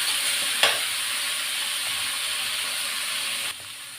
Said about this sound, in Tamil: இந்த எண்ணெயிலே வதக்கிட்டோம்